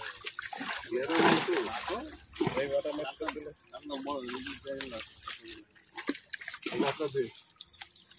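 Water splashes and sloshes as a fishing net is cast into a village pond, with people talking and calling out over the watery splatter throughout.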